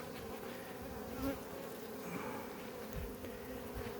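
Steady droning buzz of many varroa-infested honeybees, continuous and fairly faint, like standing near a busy hive; no voices.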